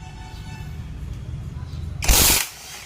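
A new impact wrench rated at 500 Nm loosens a 22 mm bolt on a motorcycle in a two-wheeler repair shop, giving one loud, close rattling burst of about a third of a second that follows low workshop background and talk.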